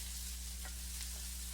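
Potatoes and onions fry steadily in a pan for breakfast potatoes, giving a constant soft sizzle with a few faint stirring scrapes and no voices.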